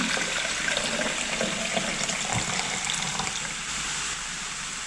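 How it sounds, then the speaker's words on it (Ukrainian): Warm water pours continuously into a cooking pot with a splashy, rushing hiss, close and steady throughout. "Тепер беру пів літра теплої води,"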